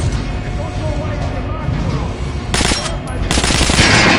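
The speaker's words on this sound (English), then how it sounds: "Shooting an armored target." Sustained automatic gunfire hammers at an armored training dummy in Metro: Last Light Redux, the loud bursts intensifying midway with metallic impact crackle, a voice talking underneath.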